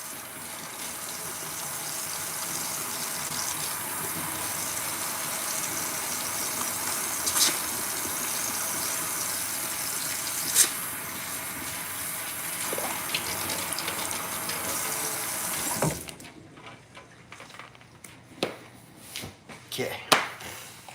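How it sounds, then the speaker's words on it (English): A sink tap runs in a steady broadband gush for most of the time before shutting off, followed by scattered clatters and handling sounds. "Let's wash our hands."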